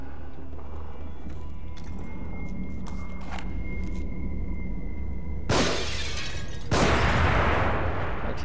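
Glass shattering in The Evil Within video game: after tense ambient hum with small clicks, two loud, close bursts of breaking glass crash out in quick succession, the second louder.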